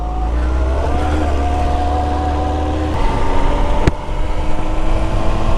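A motorcycle pulling away in first gear on a ride through Connecticut, a loud engine drone that rises with a gear change midway, plus a brief sharp knock, heard close up with wind noise.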